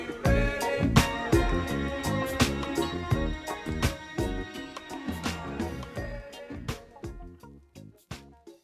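A mix plays as a steady groove with a deep beat, layered melodic tones and sharp percussive hits that thin out near the end, with no voice talking over it.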